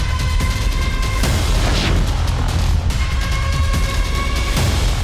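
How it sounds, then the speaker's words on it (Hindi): A heavy, booming missile blast in coastal Tel Aviv roars out, followed by a rumbling, crackling tail and a second burst of noise, loud and close with no talking. "तेल अवीव के तटीय इलाके में 2 बार धमाके हुए।"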